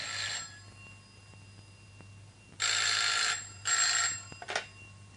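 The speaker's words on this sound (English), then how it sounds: "Oh, that's the phone." An old-style telephone rings indoors in bursts of bright electric bell trilling: a faint ring, a pause, then two loud rings and a short final clip of sound over a quiet room hum.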